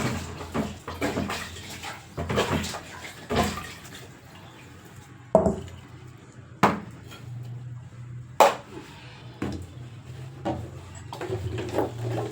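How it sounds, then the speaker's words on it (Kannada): Water splashes into a cooking pan set up for chillies in a home kitchen, with a short pour amid scattered clinks and knocks of utensils, close by and moderately loud. "ಸ್ವಲ್ಪನೇ ನೀರು ಹಾಕೊಳ್ಳೋಣ ಬನ್ನಿ ಫ್ರೆಂಡ್ಸ್"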